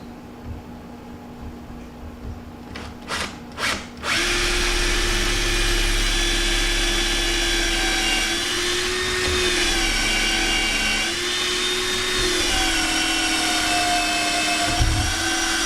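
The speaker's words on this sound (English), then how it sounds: "we're going to drill 3 holes in this skull plate" A power drill bores into the solid bone skull plate of a shed deer antler mount, a loud, close, steady whine that starts after a few short taps and holds with slight pitch wavers to the end.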